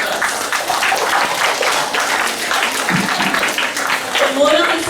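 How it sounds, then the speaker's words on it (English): Children at a Class 3 B school assembly receive a round of applause after their songs and music, with steady clapping from the gathered audience mixed with voices and chatter throughout. "So please give them a big round of applause."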